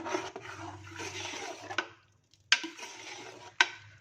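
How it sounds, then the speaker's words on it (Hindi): A spoon scrapes and stirs through thick moong dal in a pot, in slow swirling strokes with a couple of sharp knocks against the rim. "हिलाना है कि दाल हमारी अच्छे से घुट जाए।"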